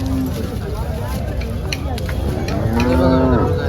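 A recently calved cow moos loudly nearby at a cattle market in Chalisgaon, a drawn-out low call near the end, over background voices and general farmyard noise.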